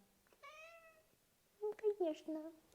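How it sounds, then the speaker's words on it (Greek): A pet cat meows indoors, first one drawn-out call and then a quicker run of three or four short meows, close and fairly quiet, with no speech. "Αυτός είναι ο γάτος μου."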